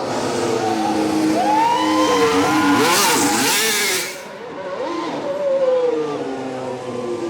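A Formula 1 car's 1.6 litre V6 turbo engine fires up and revs hard on the Las Vegas Strip, with a loud, sustained roar, sharp rising and falling rev sweeps and a brief dip before climbing again.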